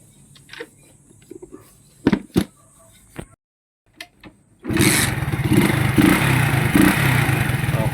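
A motorcycle being started after the fuel is opened and the key switched on, while it suffers from carburetor overflow and misfiring. A few sharp clicks and short cranking bursts come first, then the engine catches and runs steadily and loudly, close by.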